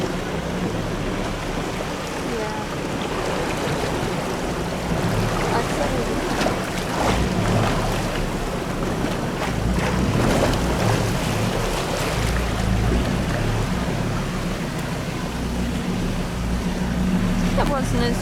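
A vehicle churns through a river crossing on Dingo Hill Track, with a steady engine rumble and sloshing, splashing water throughout, loud and close, no speech.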